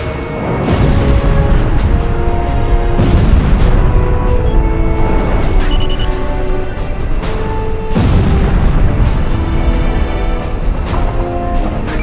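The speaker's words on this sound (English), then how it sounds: "Sam, destroyed!" SAM site explosions in the Ace Combat Zero flight game, deep booming blasts layered over a constant loud jet engine roar, with several heavy impacts rolling out across the clip.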